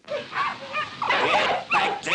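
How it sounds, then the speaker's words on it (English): Several dogs bark and yip in quick, excited bursts, loud and close, with whimpering cries mixed between the barks. "Get back there, you mutts!"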